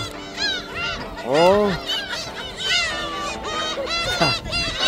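Seagulls calling in a flock while being fed shrimp-flavoured snacks at the Gyeongin Ara Waterway, loud overlapping cries and honking calls close by, with faint talk underneath.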